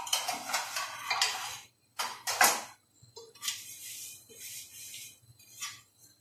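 A lid placed on a pot of bhindi gosht curry: a few metallic clinks and scrapes of metal on metal in short bursts, separated by quiet gaps.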